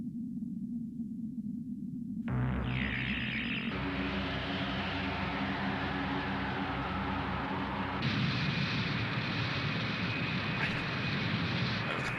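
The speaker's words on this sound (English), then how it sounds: "Macross cannon 発射" The Macross cannon firing in the Macross 7 anime: a dense, sustained roaring blast with a rising tonal whine, layered explosive rumble and sharp surges, loud and continuous throughout with no talk over it.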